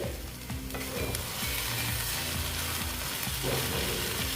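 Banana flower curry (mocha ghonto) with ghee being stirred in a pan, a steady sizzle with a spoon scraping and knocking rhythmically against the pan throughout, close and fairly loud.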